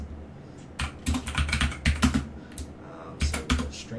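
Java code being typed on a computer keyboard, irregular bursts of close key clicks with short pauses between runs.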